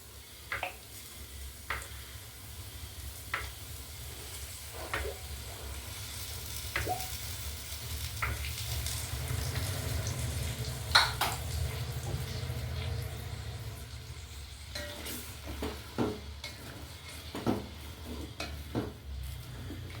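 Oil heats and fries in a thin-bottomed earthen chatti on a direct low flame for a Kerala-style chicken fry with coconut pieces: a steady soft sizzle with scattered close clinks of stirring.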